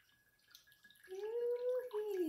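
Tap water pours steadily into a quarter-cup measure for a cooking recipe, a rising filling tone that grows louder partway through and continues to the end, close by in a home kitchen.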